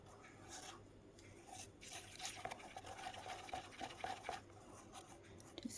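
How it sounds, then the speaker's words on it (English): Powder being stirred into liquid resin in a small cup while making resin pendants, a soft close scraping and swishing that goes on steadily with faint clicks of the stirrer against the container. "trying to be very careful that I get all of that powder mixed in"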